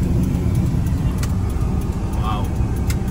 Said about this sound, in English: Wow, this is a lot of traffic